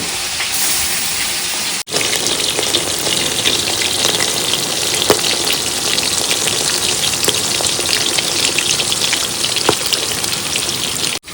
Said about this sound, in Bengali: এবার তেলও গরম হয়ে গেছে এবার মাছ ভাজা